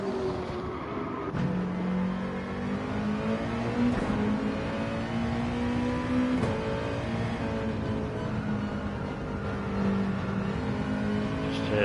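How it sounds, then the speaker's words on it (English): Race cars in a racing video game rev steadily with rising and falling engine tones, a sustained whine that could be squealing tyres running through, continuous and moderately loud without speech. "The squeal of the tyres there."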